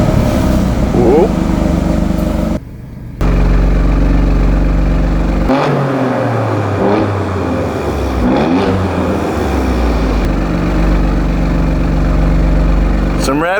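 A 503 bhp Alfa Romeo Stelvio Quadrifoglio engine revs loudly up close inside a car park, its low rumble rising and falling through repeated blips while people talk over it.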